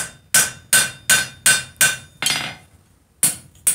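Hammer striking box jaw tongs at the edge of an anvil in six sharp, ringing metallic blows at an even pace, then a pause and one final strike, close and loud.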